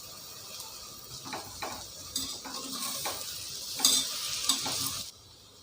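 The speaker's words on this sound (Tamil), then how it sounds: "இதை இப்போ நல்லா வதக்கி எடுத்துக்குவாங்க." Mint and coriander leaves being sautéed in a pot for a soy chunk pulav, with close stirring scrapes and a soft sizzle that swell and fade over several seconds and no talking.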